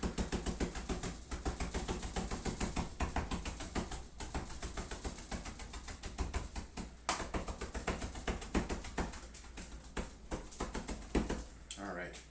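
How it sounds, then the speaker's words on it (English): A knife rapidly chopping herbs for chimichurri on a cutting board, a fast, steady stream of crisp taps at moderate distance under a person talking. "we can take a look at the herbs here, and you can see they are pretty medium fine chopped"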